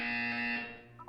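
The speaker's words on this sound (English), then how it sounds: "You will hear a buzzer." A test-chamber buzzer from the video game Portal 2 gives a single short, loud electronic buzz with a steady harmonic tone. It fades away after about half a second.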